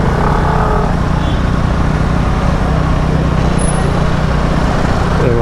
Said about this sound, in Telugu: అసలు ఎందుకు ఇంత ట్రాఫిక్ ఉంది ఈ రూట్లో?